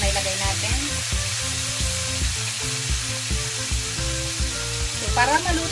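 Salmon pieces fry in a pan with a loud, continuous sizzle and crackle, with rhythmic low clinks or stirring knocks running underneath throughout.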